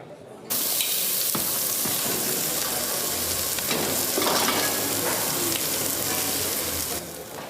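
Steady crackling sizzle of food cooking on a hot barbecue grill, continuous and fairly close, with a faint low hum underneath.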